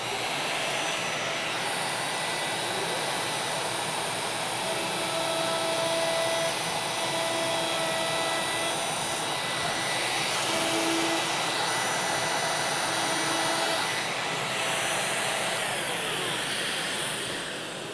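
Router cutting a roundover with a 1/4 inch bit along the edge of composite decking, a loud steady high-pitched whine that runs unbroken and close throughout, with slight shifts in pitch as the cut goes on.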